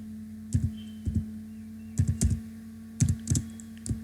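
Keys tapped on a computer keyboard while entering data into a spreadsheet, short clusters of close clicks over a steady low electrical hum.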